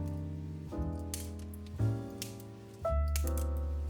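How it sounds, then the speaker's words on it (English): Flush cut snippers trimming a scratch-built model fishing trawler hull make a few sharp snips over background music, with distinct cuts spaced about a second apart. "then I just trim it up with my flush cut snippers"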